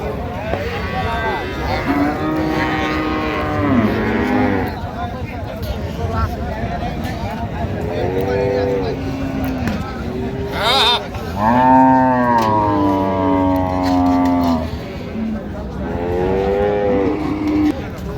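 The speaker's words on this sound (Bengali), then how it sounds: "গাভী বাছুর সুন্দর" Cows and calves mooing repeatedly, long drawn-out calls from several animals close by, with people chatting in the background of a busy cattle market at Raniganj, Dinajpur.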